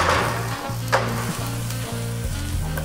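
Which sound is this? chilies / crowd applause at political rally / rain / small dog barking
chilies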